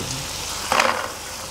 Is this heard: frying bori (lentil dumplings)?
yes